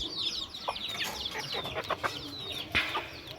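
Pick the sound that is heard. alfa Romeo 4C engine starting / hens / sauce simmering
hens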